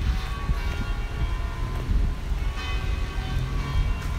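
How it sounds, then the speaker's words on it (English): Church bells from several Paris churches near Notre Dame ring together, a dense, continuous metallic clangour with loud low rumble of street and traffic noise beneath. "now we got the bells from all different churches ring."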